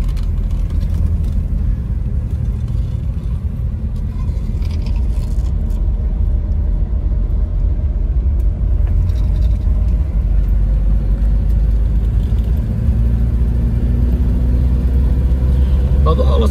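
A 1971 Chevrolet Opala Gran Luxo idles while warming up on a cold day, a steady loud low rumble throughout with a faint rising whine, heard from inside the car.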